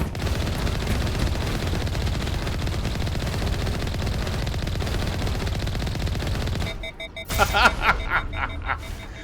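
Steady rapid gunfire in Mass Effect rattles on for several seconds at close range, then cuts off, leaving a few scattered bursts and impacts.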